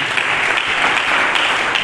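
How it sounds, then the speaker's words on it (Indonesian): A church congregation claps in steady, dense applause that fills the room at an even level. The clapping is close and continuous, with no voice over it. "supaya kita berikan tepuk tangan yang meriah"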